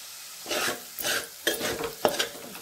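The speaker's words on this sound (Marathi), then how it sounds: "आपण पीठ व्यवस्थित त्याला फ्राय करून घेऊया." Capsicum and gram flour frying in oil in a pan, stirred in four quick bursts of scraping and sizzling with short pauses between, close and clear with no talk.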